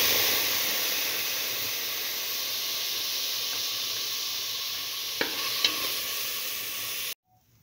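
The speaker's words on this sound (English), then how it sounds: "Now put in the split onion." Split onion sizzles and spits in a hot frying pan, a steady bright hiss of oil that runs evenly, broken near the end by a couple of sharp ticks of stirring before it cuts off abruptly.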